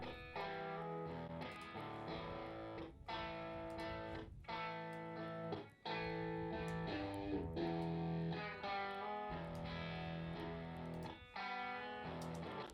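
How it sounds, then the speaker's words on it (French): Distorted electric guitars play chords heard only as reverb, a washed-out, roomy tail with no direct attack, moderately quiet. "voilà ce que donne l'effet de la reverb."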